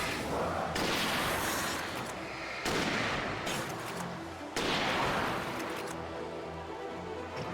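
Hunting rifle shots in the game Alan Wake: three loud, heavy blasts spaced roughly two seconds apart, each with a broad crack and a long rolling tail, close and unaccompanied by speech.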